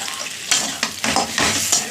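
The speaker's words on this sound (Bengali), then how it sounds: "মশলাটা ভালো করে ভেজে নিই।" Turmeric and red chilli spices fry in oil in a pan for a taro curry, a loud close sizzle broken by several sharp scraping stirs of a spatula at a quick, uneven rhythm.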